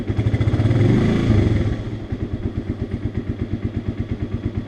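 A Romet K 125 motorcycle engine revs briefly and loudly, then drops to a steady, close idle with an even, rapid thumping pulse.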